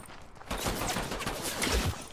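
Gunshots ring out in a Fortnite duo match as a dense, rapid burst of cracks and rattling impacts over about two seconds.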